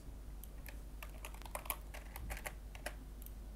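A name being typed on a computer keyboard: quick, faint, irregular key clicks tapping over a quiet room hum, with no voices.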